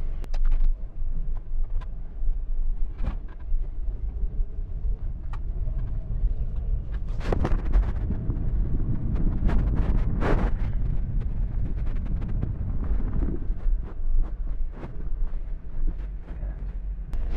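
Steady road and tire rumble is heard from inside a moving car. The low drone holds at an even level with occasional bumps and thumps, and there is no talk.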